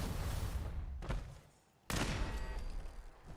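Automated turret gunfire in the video game Fallout 4: a dense, rapid stream of shots, cut by a short gap before a sharp loud burst resumes the firing.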